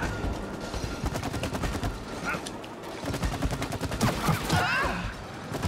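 Rapid bursts of gunfire in the co-op video game It Takes Two, dense repeated shots close and loud throughout, with occasional voices in between.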